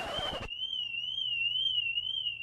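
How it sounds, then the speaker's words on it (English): A BMW i3 car alarm sounds while the car is jacked up, a steady warbling electronic tone that follows a brief burst of noise and then continues unbroken. "Don't forget to disable the alarm when you're jacking up your i3."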